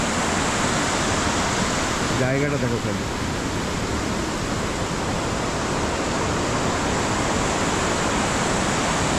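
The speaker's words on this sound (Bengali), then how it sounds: "ঝর্ণাটা সব সময় বয়ে চলে, 12 মাস হবে" A year-round waterfall at Bijanbari in Darjeeling roars as a loud, steady broadband rush throughout, with a brief spoken phrase near the start under the water noise.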